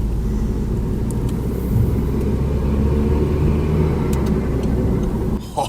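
A truck engine fitted with a KO4 turbo rumbles steadily and loudly, close by, a continuous deep drone that cuts off abruptly near the end.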